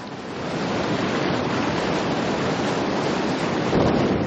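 Strong wind of around 25 knots roars over the sea off Cabo Raso, with waves washing in a dense, continuous rush that swells slightly louder near the end, no voices heard.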